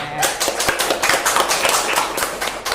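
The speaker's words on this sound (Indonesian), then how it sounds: "Tepuk tangan" A few people in a podcast studio clap their hands in quick, dense, close-up claps that continue steadily for nearly three seconds.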